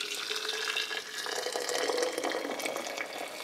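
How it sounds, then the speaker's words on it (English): Hot water from a kettle pours into a jar holding multi-flower honey and ginger, a steady splashing, gurgling stream heard close up for a few seconds with no talking. "Kettle of water."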